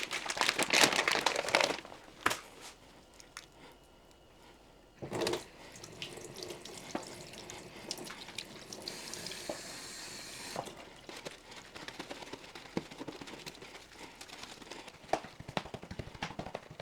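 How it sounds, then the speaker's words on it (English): Cold tap water runs over raw pork ribs in a sink, hissing and splashing close by in bursts, with wet handling and crinkling sounds as the meat is turned and rinsed. "wash the ribs under cold water, give them a pat dry"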